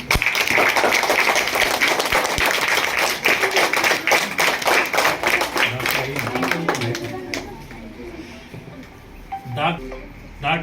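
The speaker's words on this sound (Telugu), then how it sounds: "అందరూ ఒకసారి చప్పట్టు కొట్టండి" Schoolchildren at a government school burst into a round of clapping, a dense, loud patter of many hands that fills the first several seconds, then thins out and fades to scattered taps.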